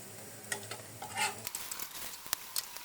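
An egg snack frying in a pan on low heat, a soft, close sizzle with light stirring clicks and a few small pops, no voices.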